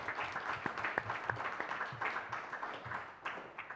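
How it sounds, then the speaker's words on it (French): Audience applause at a city council meeting: a steady wash of many hands clapping in a room, moderately loud and continuous, with a few sharper individual claps standing out throughout. "vous applaudir une fois encore si vous êtes venu"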